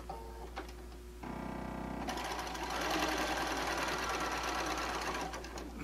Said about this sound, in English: we're going to sew our 1/4 inch seam